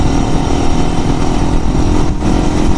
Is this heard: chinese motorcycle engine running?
yes